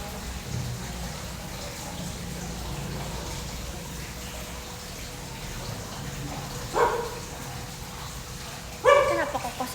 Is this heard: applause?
no